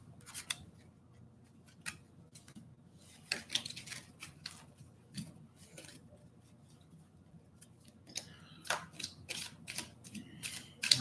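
Tarot cards being shuffled by hand in quiet, irregular bursts of crisp rustling and slapping, with short pauses between.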